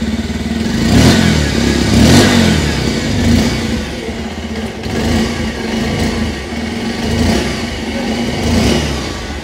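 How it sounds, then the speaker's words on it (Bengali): A Bajaj Pulsar 125 Neon motorcycle idles up close, its engine and exhaust rumbling steadily, with several throttle blips that rise and fall roughly every second, no talk over it. "সবার আগে আপনারা এর এক্সস্ট এবং ইঞ্জিন সাউন্ড চেক আউট করে নিন।"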